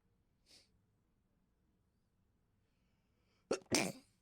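A faint breathy sound, then after a pause a loud, sharp sneeze bursts out close by.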